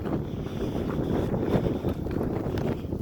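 Cold wind blows steadily on a high-altitude mountain trail at about 12,800 feet on Mount Elbert, Colorado, a continuous close buffeting rush with no pauses.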